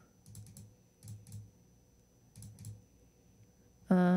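Faint computer-keyboard typing comes in short clusters of soft clicks over a quiet hum, ending with a sudden louder noise.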